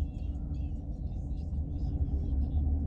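Car rolling through a parking lot, heard from inside as a low, steady engine and road rumble, fairly quiet, with faint chatter-like noise above it and no clear speech.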